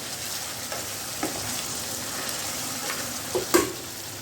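Chicken karahi with coriander, black pepper and cumin powders is stirred in a hot pan, a steady sizzle with a few soft scrapes and a sharper clack near the end.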